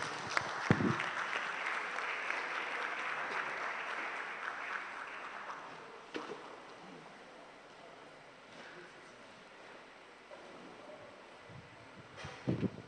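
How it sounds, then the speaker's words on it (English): Conference audience at a regional higher-education gathering applauding the Vice Chancellor, fairly faint and distant clapping that swells early then thins out, with a few louder bursts near the end. "Let's give another applause to our Vice Chancellor."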